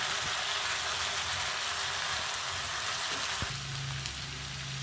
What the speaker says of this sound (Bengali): এবার আমি মাছ ভাজাগুলো ছেড়ে দিচ্ছি